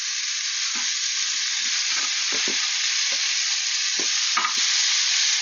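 Burgers frying in a pan after being flipped, a loud continuous sizzle with a few soft scraping and tapping sounds of a spatula against the pan, no talking.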